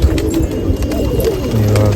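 Close, loud cooing from pigeons, a deep throaty rolling coo that continues through the short stretch without talking.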